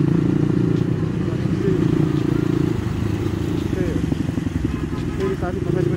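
A CX250R motorcycle with dual exhaust idles and runs nearby, a steady low engine rumble throughout while people talk over it.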